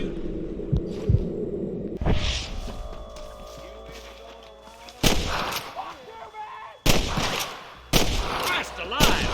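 Sharp, loud gunshots ring out in the Red Dead Redemption video game on Series S, several separate blasts spread across the span with echoing tails, mixed with in-game voices and score.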